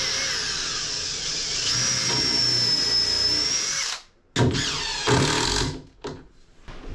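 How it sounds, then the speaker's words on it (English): A power drill drives a pocket screw into 3/4 inch mahogany plywood for a step aboard a wooden boat, whining loud and steady for about four seconds, then a few shorter bursts with brief pauses between them. "Okay, let's attach this. Poor man's pocket screw."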